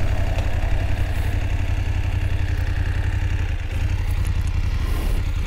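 A motorcycle engine idles steadily nearby, a low rhythmic rumble with a faint mechanical clatter and no voices.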